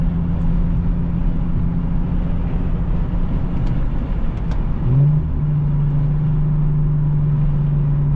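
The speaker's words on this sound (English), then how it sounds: "Slight downshift. She be popping a little bit every now and then" An Infiniti G37 car engine with loud aftermarket modifications drones steadily from inside the cabin, its pitch dropping and shifting around the middle as it downshifts, then holding at a new steady hum.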